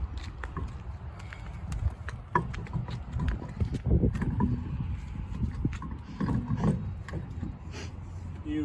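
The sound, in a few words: lug nuts being threaded onto a wheel by hand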